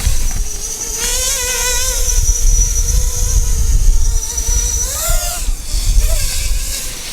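A SPEDIX S250Q FPV racing drone flies with a high-pitched motor whine that rises and dips as the throttle is punched and released, including a sharp surge near the end, mostly heard on its own.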